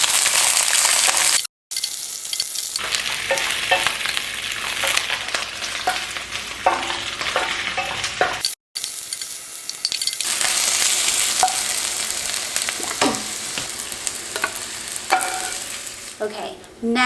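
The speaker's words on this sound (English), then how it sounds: "Let's cook the cucumber." Cucumber fries in a mix of olive oil and sesame oil, giving a loud, continuous sizzle with stirring scrapes and crackles throughout, briefly cut off twice.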